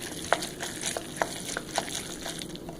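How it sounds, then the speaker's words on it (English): Mac and cheese stirred in a pan gives soft wet squelches and scrapes, a few sharper clicks of the utensil against the pan, over a low bubbling sizzle, fairly quiet. "Then you just stir. Stir the glory."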